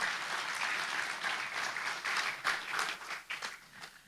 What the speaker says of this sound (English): Please give a big applause to the three presenters.